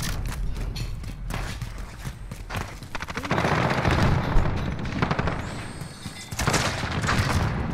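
Loud, dense volleys of gunfire and booms from a shooter video game, bursts overlapping continuously through the whole stretch with no clear talk.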